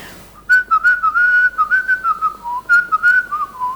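A woman whistling a lively, warbling tune in imitation of her brother's whistle, close and clear, with short melodic phrases broken by brief pauses and no talking.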